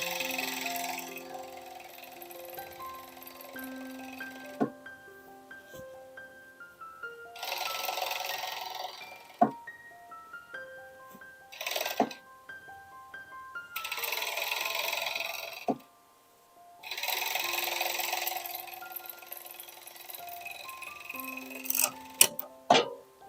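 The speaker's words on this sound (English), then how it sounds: "I just stitched with my overlock." An overlock machine stitching a crocheted granny-square cardigan runs in several loud bursts separated by quieter pauses with handling clicks and rustle, close up and without speech.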